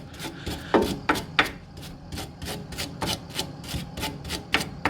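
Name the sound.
cleaning a stabilizer link's bolt thread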